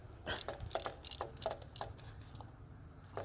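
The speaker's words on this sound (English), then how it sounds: "get your little trusty ratchet, whichever one you like. Crack it open." Ratchet with a spark plug socket cracking loose a spark plug on a Jeep Compass 2.4L engine, giving a series of sharp, close clicking ratchet strokes in an irregular rhythm before falling quiet.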